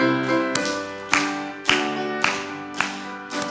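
A church congregation claps in unison for members' birthdays during Sunday worship, five or six sharp, evenly spaced claps ringing over sustained organ or keyboard chords.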